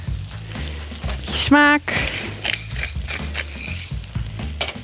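Sausage sizzles and fries in a pan with pointed cabbage, a constant crackling hiss that goes on throughout, up close. A person briefly speaks over it.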